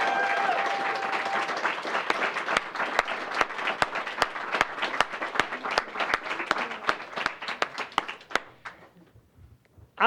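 An audience applauds at an awards ceremony, a dense, steady round of clapping from a crowd that thins out and fades near the end.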